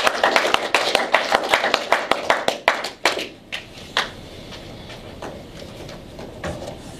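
Church congregation claps together in a fast, steady rhythm as an act of praise, the sharp handclaps loud at first, then thinning into scattered claps that fade out over the last few seconds.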